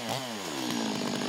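A chainsaw carves wood using the tip of its bar, its engine snarling loud and close with a steady high-pitched whine that dips and climbs as the cut loads, heard alone.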